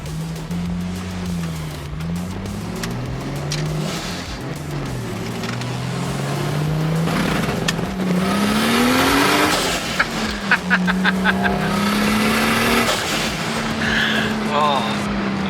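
A Ford XR6 Turbo street car accelerating hard, its engine note climbing through the gears with shifts between pulls and a brief burst of crackles. It is recorded loud from inside the cabin, with occupants talking over it.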